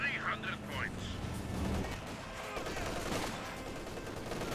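Company of Heroes 2 battle gunfire, a rapid crackle of shots and distant booms filling the mix, with brief voice chatter in-game at the start.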